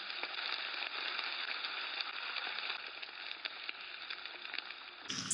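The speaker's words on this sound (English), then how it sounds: "Frying enhances the flavor and gives a slightly roasted taste." Goat heart pieces fry in hot oil, giving a continuous, close, bright sizzle with small crackles throughout, which cuts off abruptly near the end.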